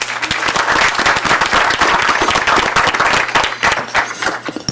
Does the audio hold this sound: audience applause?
yes